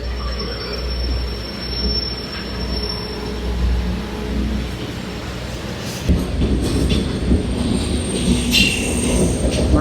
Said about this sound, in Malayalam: ട്രെയിൻ പുറപ്പെടുന്നു. പുകവണ്ടി കേട്ടോ,